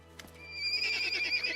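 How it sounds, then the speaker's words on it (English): Scared ponies in the fantasy video game Pathfinder: Kingmaker give a short snort and then a loud, wavering neigh that fills most of the moment, with no talk over it. "A pair of scared ponies stands before you. They don't run away, but they snort loudly and neigh as you approach."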